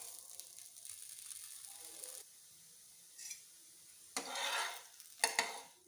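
Jowar roti frying in a covered pan gives a quiet sizzle that drops away and then returns in louder hissing bursts with a few sharp clanks.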